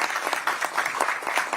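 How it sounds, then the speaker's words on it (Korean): Applause from a party audience at the launch of the Democratic Party's election campaign committee, dense overlapping clapping at steady loudness throughout, with a faint murmur of crowd beneath. "큰 박수를 부탁드리겠습니다."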